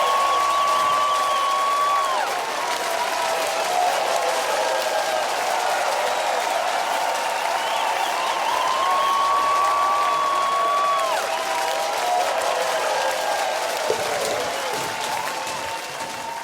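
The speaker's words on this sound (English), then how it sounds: "Can I get some applause?" Audience applause with some cheering after a host's call at a film review show, steady dense clapping throughout with whistle-like tones and crowd noise layered over it.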